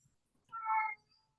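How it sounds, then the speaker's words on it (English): A cat gives a single clear meow, brief and fairly close, in an otherwise quiet room. "My cat was making a lot of noise."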